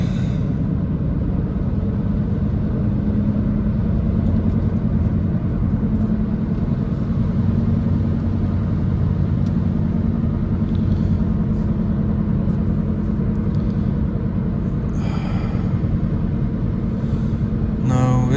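A 2007 Mazda 3 SGT with a 5-speed manual gearbox drives along, its engine giving a steady, close low drone and road rumble that holds through the whole stretch.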